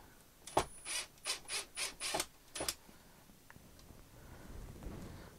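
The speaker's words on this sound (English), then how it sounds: "let's see if I can't take that screw and that screw off and see what I got" A screwdriver backs screws out of a casing while burned-out nose LEDs are being repaired, giving about six short whirring bursts in a quick steady rhythm up close, then quiet rustling handling noise.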